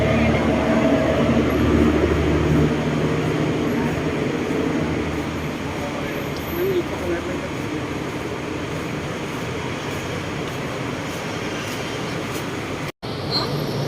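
A Bangkok MRT Pink Line monorail train pulls into a station with a loud, steady, broadband rumble and roar that fills the whole stretch and barely changes in level.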